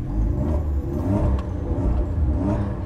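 A car engine set to an exhaust-only mode roars close by, a loud continuous low rumble with uneven throbbing pulses throughout, without speech.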